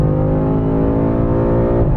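Twin-turbocharged engine of a 2022 BMW M5 CS pulling hard under acceleration, a loud, steady, deep droning growl heard from close range with no talking.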